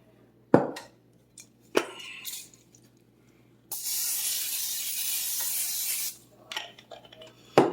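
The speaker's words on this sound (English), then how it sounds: "I'm going to put some spray in there." Several sharp clicks and clatters, then a long, loud hiss of butter and olive oil cooking spray into a hot pan lasting a couple of seconds before more light handling noises.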